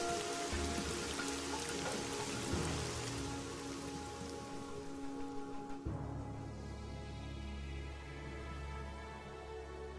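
Steady rain of a tropical storm falls across a mountain landscape, a dense continuous patter of drops on surfaces that shifts to a softer, more even downpour partway through, with no voices.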